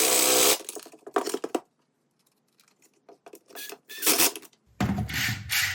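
A Porter Cable power tool with replaced bearings runs in short bursts, a harsh, gritty whir cutting in and out with silent gaps between trigger pulls, close and loud.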